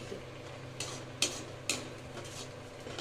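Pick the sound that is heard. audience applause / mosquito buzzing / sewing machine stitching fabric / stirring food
stirring food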